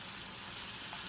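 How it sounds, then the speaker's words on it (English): Cut-up bacon strips sizzle steadily in a frying pan, a soft continuous crackling hiss with no voices. "I've got 2 strips of bacon that I've cut up and just cooking here in my pan"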